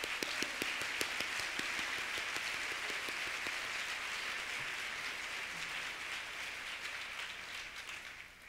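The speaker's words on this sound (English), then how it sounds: "Let's give her a round of applause." Audience applause at a luncheon, a dense steady wash of many hands clapping that fades slightly toward the end, filling the room with no talk over it.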